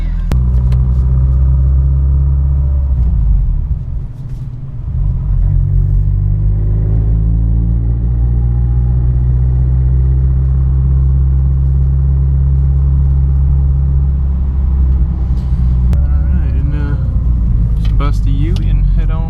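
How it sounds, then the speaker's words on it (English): A car fitted with a newly installed oil filter sandwich adapter drives on the road, giving a steady, close, low engine and road rumble heard from inside the cabin, with slight revving midway and faint clicks near the end. "go take the car for a spin"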